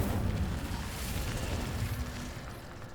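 A fire spell cast in Hogwarts Legacy, heard as a dense, roaring whoosh of flame that fills the clip continuously, loud and close with a rumbling low end.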